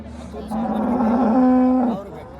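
A single cow lets out one loud, close moo lasting about a second and a half amid the background murmur of a cattle market.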